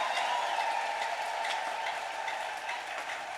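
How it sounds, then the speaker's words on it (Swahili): A church congregation at a conference service applauds with dense, continuous clapping, a steady wash of sound that holds for several seconds. "Hebu mpe Yesu makofi mazuri kabisa"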